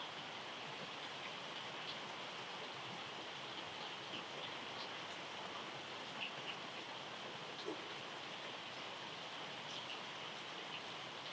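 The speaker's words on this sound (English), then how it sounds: "I assume you can hear the rain, so listen to the rain." Steady, even rainfall hisses continuously and fairly faintly, with occasional tiny individual drops ticking through the wash, and no voices.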